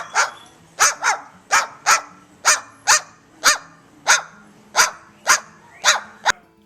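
A parrot imitates a dog barking, giving about a dozen sharp, evenly spaced barks at close range, with faint background sounds between them.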